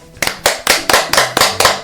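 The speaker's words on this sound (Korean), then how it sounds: "박수." Eight sharp hand claps in a steady, slightly quickening rhythm, loud and close, each a bright broadband snap with no talk between them, in a Korean English-speaking class.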